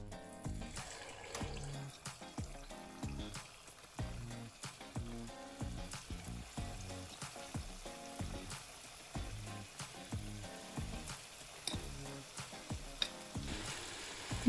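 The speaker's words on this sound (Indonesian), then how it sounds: "Minyaknya udah lumayan panas, kita goreng ya." Spoonfuls of bakwan vegetable fritter batter sizzle and crackle steadily in hot oil, Jakarta street-food style, with occasional stirring clinks, close and fairly quiet.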